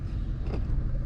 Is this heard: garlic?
no